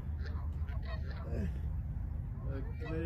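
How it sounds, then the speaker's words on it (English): Canada geese honk repeatedly at fairly close range outdoors on a freezing day, their calls rising over a steady low wind rumble. "Canadian geese are wondering what I'm doing."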